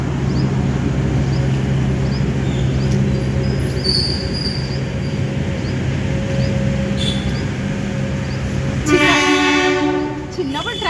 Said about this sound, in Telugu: వీడు కనిపిస్తుంది రైలు